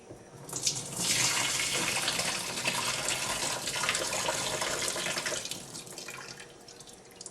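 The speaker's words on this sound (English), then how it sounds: "May want to pour some of that boiling water in there" Boiling water pours steadily in a rushing, splashing stream for several seconds, close by, then tapers off.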